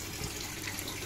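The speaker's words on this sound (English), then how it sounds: "This to divert excess water from the pump so that it does not go up into the grow bed" Water from an aquaponics pump flowing through a stopcock diverter, a steady faint gushing hiss with no speech.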